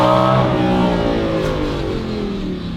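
Lamborghini Gallardo LP610-4 with factory catalytic converters, its engine revving loud and close in a smooth high wail whose pitch slides steadily downward as it winds off.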